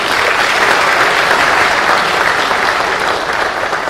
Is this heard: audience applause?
yes